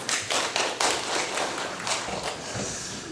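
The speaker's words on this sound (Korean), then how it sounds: "광고를 너무 잘해 주셔가지고 박수를 받으십니다." A church congregation at a Sunday service breaks into applause, a dense burst of many hands clapping that fills the space, with a few sharper claps standing out before it gradually thins.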